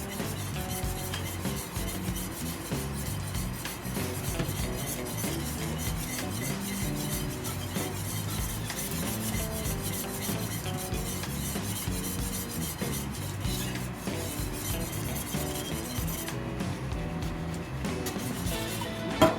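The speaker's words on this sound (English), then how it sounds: "And we're gonna mix everything together." White pepper and white truffle oil are stirred into a sauce, a steady raspy scraping and rubbing that runs continuously and fairly loud for the whole stretch, with a dense tonal layer underneath.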